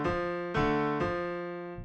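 A bright synth sounds three sustained note strikes in quick succession, moving back and forth between two pitches.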